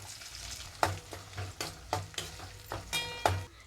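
Small shallots frying in hot oil with mustard seeds and curry leaves, a soft sizzle broken by several sharp stirring scrapes and clinks of a spoon against the pan, with no talking.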